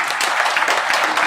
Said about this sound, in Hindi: मुझे लगता है कि इनके लिए तालियां जरूर बजनी चाहिए दोबारा।